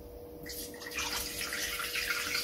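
Lukewarm water poured from a container into gluten-free bread mix, a soft trickle that swells into a steady close pour after half a second, with a faint hum underneath.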